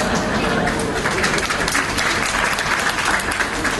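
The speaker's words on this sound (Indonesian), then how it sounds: "Gak usah kau tepuk tangan." A church congregation during a sermon breaks into loud, sustained applause, a thick even roar of clapping with a murmur of voices mixed in.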